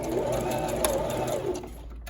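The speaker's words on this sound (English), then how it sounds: "Plant my needle and back tack a little." A sewing machine stitches a short back tack on a wine duffle bag, a close steady mechanical whir with a brief rattling change in pace before it slows to a stop.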